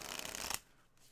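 A Rider-Waite Smith tarot deck is shuffled in a quick, close riffle of papery card flutter that stops abruptly, leaving quiet room tone.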